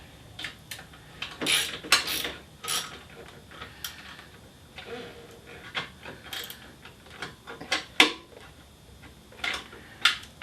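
A ratchet tightens an exhaust bracket bolt on a Suzuki GS500 motorcycle, giving a close series of irregular clicks and metallic taps with short bursts of ratcheting, no talking over it.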